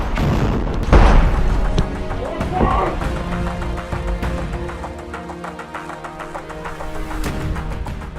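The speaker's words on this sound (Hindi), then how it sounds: "दूर गली में खड़े आईडीएफ के टैंक पर घात लगाकर रॉकेट से हमला करता है, जिसमें इजराइल का वो टैंक आग के गोले में तब्दील हो जाता है" A rocket ambush strikes an IDF tank in a street in Khan Yunis, Gaza. It bursts as a single heavy boom near the start and then fades into rumbling, crackling noise under a voice speaking.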